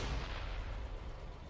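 Tank cannon fire in the World of Tanks video game on Xbox 360, a dense low boom rolling on steadily across the short stretch with no clear break.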